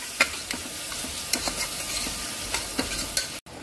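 Tofu and capsicum being stirred and sautéed in a pan with a steady sizzle and sharp clinks of a spoon or spatula at irregular intervals, close and moderately loud, with no talking.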